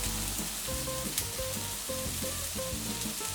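Brussels sprouts with garlic fry in a pan, giving a constant close sizzle and crackle while they are moved around, with light scraping and clinking of the utensil against the pan.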